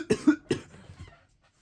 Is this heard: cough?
yes